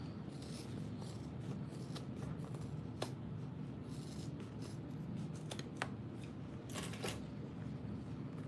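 Scissors trimming fabric for a backpack, close and quiet, with a run of crisp snips and rustling fabric spread through the clip over a steady low hum.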